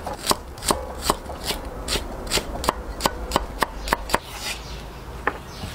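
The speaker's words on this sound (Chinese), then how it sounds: "切点姜蒜火火，" A knife chops ginger and garlic on a board in a rapid run of crisp, close strikes. The steady rhythm quickens midway, then a few final chops trail off, with no talking.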